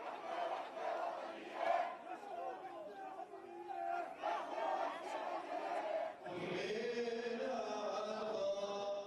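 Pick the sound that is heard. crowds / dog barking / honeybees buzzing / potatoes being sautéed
crowds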